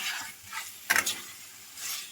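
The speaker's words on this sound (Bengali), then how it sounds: "এবার আলুগুলো আর কচুগুলো দিয়ে ভালো করে মশলার সঙ্গে কষিয়ে নেব।" Fried potatoes and taro are stirred into spice paste in a pan, a soft sizzle running under a spoon scrape and one brief louder clatter near the middle.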